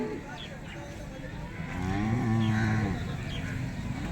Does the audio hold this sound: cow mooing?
yes